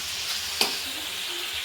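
Chopped potato, tomato and ginger fry for upma in a home kitchen pan, giving a steady hiss and sizzle with one sharp spoon clink partway through, close and fairly loud.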